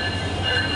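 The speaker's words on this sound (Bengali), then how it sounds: "এটি চায়না রেকের একটি নতুন brand new metre gauge train" A brand-new Chinese-built meter gauge intercity passenger train on the Dhaka to Cox's Bazar route runs with a steady, close rumble and thin sustained wheel squeal.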